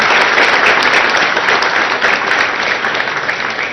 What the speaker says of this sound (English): So I think a good round of applause to the entire team on that.